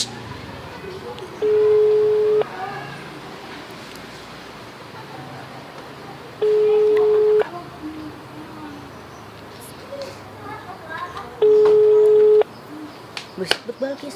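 A phone call rings out on the line, three steady two-tone ring bursts about a second long each, spaced roughly five seconds apart over a quiet background hiss.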